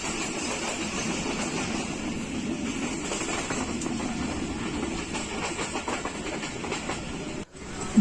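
A Pakistan Railway passenger train running at speed in the rain, heard from on board as a steady, loud rumble of wheels on rail with a faint rhythmic clatter, continuous throughout and dipping briefly near the end.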